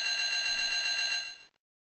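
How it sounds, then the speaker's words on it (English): Feeding time chime from the Mega Man Battle Network 6 video game, a loud sustained bell-like electronic tone that rings steadily for about a second and a half and then cuts off. "Now play the feeding time chime as loud as you can."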